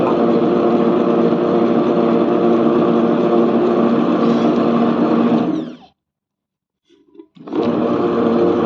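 A wet grinder runs steadily, grinding soaked ingredients for idli batter with a loud continuous motor hum that cuts off abruptly, pauses briefly with small clinks, then starts up again.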